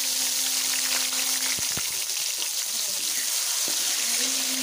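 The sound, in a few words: chana dal added to hot pan of bitter gourd, sizzling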